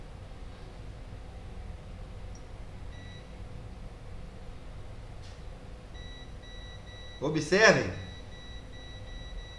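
A multimeter on continuity test beeps while probing capacitors in the RF section of a shorted circuit board, giving a steady high electronic tone of a few seconds with a person talking over it.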